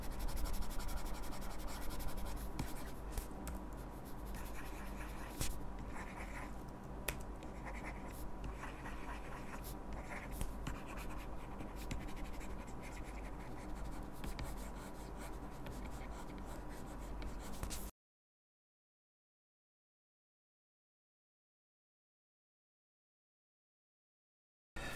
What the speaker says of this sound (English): I can go ahead and start sketching